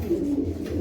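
Racing pigeons give a low, throaty coo, close and steady, for under a second; no talking.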